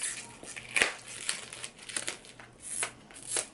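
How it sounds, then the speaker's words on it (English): Packaging on a card deck crinkling during unboxing: soft, close crackles and rustles in irregular bursts, fairly quiet, with no talking. "Let me see if we get some ASMR. Is that what it is? Some crinkling effect."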